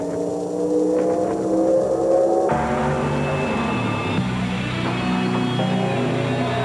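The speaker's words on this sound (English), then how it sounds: "Miller Genuine Draft Rusty Wallace stock car." Miller Genuine Draft Rusty Wallace stock car engine roaring continuously, its pitch shifting with revving and gear changes, loud and close with no talk.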